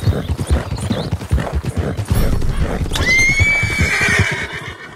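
A horse in the video game Red Dead Redemption 2 gives a loud, close whinny that rises and trails off, following a run of rhythmic clip-clop hoofbeats, with no talking over it.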